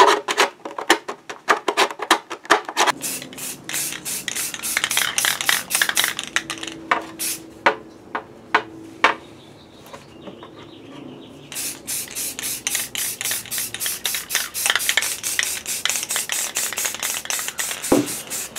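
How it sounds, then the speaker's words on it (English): Small hand file rasping at overcut slots in a Star Wars B-Wing Blue Leader prop helmet, patched with Bondo; fast, close rhythmic strokes in bursts with a brief pause midway, no talking. "I'm cleaning up these slots with a little file."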